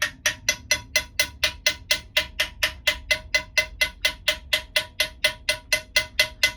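Small hammer tapping the dented brass body of a 1965 Selmer Mark VI saxophone back into shape: a fast, perfectly steady stream of bright, ringing metallic taps, close and even in loudness throughout.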